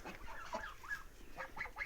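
Chicks cluck and peep in short, soft bursts, several calls overlapping at close range with no talking.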